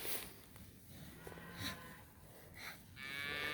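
Cattle mooing during a cattle drive outdoors, several long, low lowing calls from different animals overlapping at moderate distance over a steady outdoor background.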